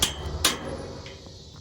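Two sharp hammer strikes driving splined studs out of a truck frame during a teardown, close and loud, the second following about half a second after the first, with a low rumble of background noise between them.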